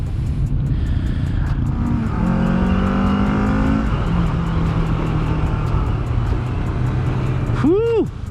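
A 2021 Kawasaki Ninja 650 ABS engine drones steadily while riding, its pitch rising and falling with throttle, a loud continuous hum mixed with wind rush and faint voice at the end.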